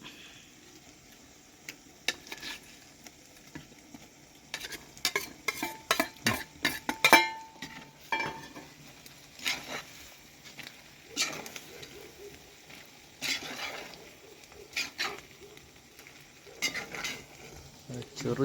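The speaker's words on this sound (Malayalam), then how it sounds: "അതിലേക്ക് നമുക്ക് മീനിട്ടിട്ട് ഇളക്കാം" Spiced fish pickle stirred in a hot pan, with scraping and clinking of a spoon against the pan over a low sizzle, in irregular bursts of stirring strokes close by.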